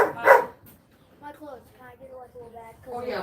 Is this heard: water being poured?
no